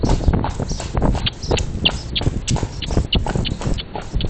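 A New York City carriage horse's hooves clip-clop on the street at a trot, quick uneven strikes close by over steady traffic and street noise.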